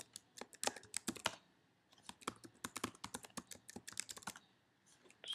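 Rapid typing on a Mac computer keyboard while entering a password, a close, dense run of crisp keystrokes with a short pause midway, no talking.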